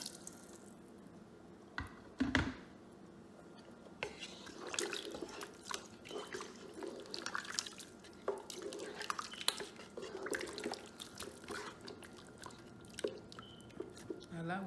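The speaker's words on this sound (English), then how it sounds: "So we are gonna add some water so that we can cook it properly" Water poured into a pot of tomato sauce with tough goat meat for Nigerian jollof rice, with splashing and dripping sounds mixed with kitchen clatter over about fifteen seconds while a person talks.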